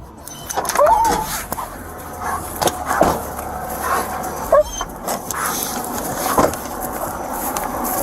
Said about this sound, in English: The dog is let out after the suspects have been warned.